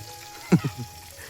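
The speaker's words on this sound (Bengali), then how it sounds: "মাছ ভাজা এখন হচ্ছে" Fish frying in a pan, with a soft steady sizzle and a couple of brief louder pops or spatters close by.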